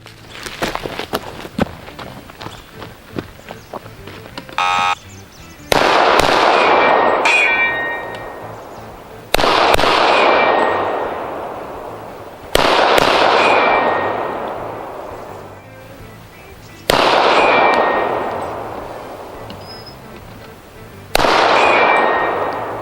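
Gunshots ring out on AutoTargets steel shooting targets at SHOT Show 2017 as a shooter works a hostage-taker course, with five loud separate impacts each followed by a long metallic ring, after a stretch of softer clatter.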